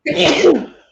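A single sneeze from a person during a friendly writing session, one short burst rising and fading within about a second, close and fairly loud.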